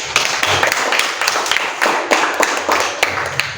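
Students in a classroom clap for the third group, a loose crowd of hands producing sharp, irregular slaps that keep up a busy, uneven rhythm close by throughout.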